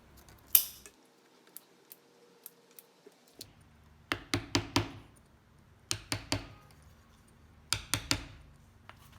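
Scissors snip at pressed cane on a chair seat: a series of short, crisp cuts and clicks, some single and some in quick clusters of three or four, close and fairly quiet, with no speech.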